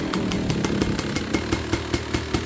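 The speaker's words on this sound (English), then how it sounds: "Nothing more annoying than a two-stroke" A small two-stroke engine runs nearby at a fast, buzzy idle, its rhythmic exhaust pops pulsing steadily and loudly, with no talk over it.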